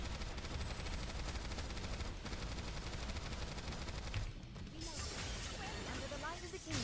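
Full-burst gunfire in a video game: dense, rapid automatic shooting runs steadily for about four seconds, pauses briefly, then resumes with more bursts and effects. A voice talks over the shooting.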